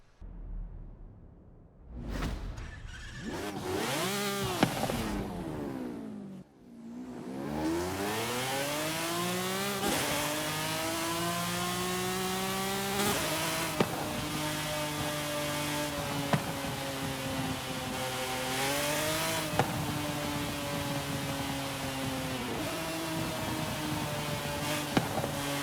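A McLaren F1 on a 1400+ horsepower drag tune in Forza Horizon 5 revs hard, its engine note climbing through repeated gear changes in a long, loud, sustained howl up close.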